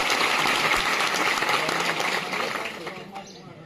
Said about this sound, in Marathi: सर्वांसाठी एकदा टाळ्या आपण परत एकदा वाजवण्यासाठी.